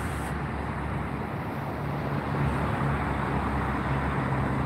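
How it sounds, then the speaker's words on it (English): Steady road traffic noise from a nearby roadway fills the background, a continuous low rumble of passing vehicles with a slight swell midway; no one speaks. "Sorry for the road noise, everybody."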